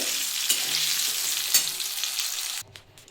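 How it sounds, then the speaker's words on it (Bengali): Flat beans (shim) fry steadily in hot oil in a home kitchen, a loud continuous sizzle with a couple of sharp spits, dropping suddenly quieter near the end as the beans are lifted out. "দেখুন আমার শিমগুলো ভাজা হয়ে গেছে আমি এবার শিমগুলো তুলে নেব"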